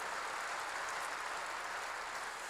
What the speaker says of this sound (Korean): 박수 좀 세게 쳐요.